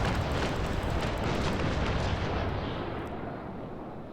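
A cannon broadside fires from a sailing warship in the Naval Action game, with loud overlapping booms merging into a dense rumbling roar that slowly fades.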